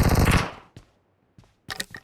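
Gunfire in a shooting video game: a loud rattling burst fades out, followed by a few sharp isolated shots and a final short volley, with no talk.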